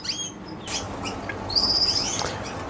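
A London canary held in the hand gives short, high chirps and a brief sharp whistled trill, close by, with faint rustling and handling noise around it.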